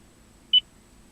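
Single short, clean electronic tone from a Toyota Prius voice command system, one brief beep alone against a quiet cabin background.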